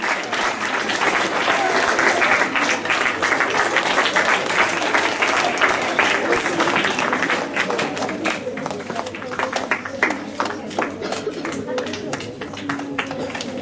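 An assembled crowd at a school Republic Day assembly claps for a house vice captain, a sustained burst of dense applause that thins toward the end into scattered, distinct claps, with voices faintly mixed in.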